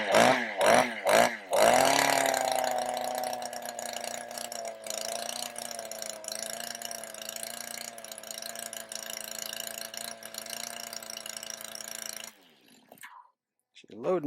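A Mantis tiller's small engine runs rich with a loaded-up, burbling steady drone, loud and close, after a few sharp pull-start bursts, cutting out near the end.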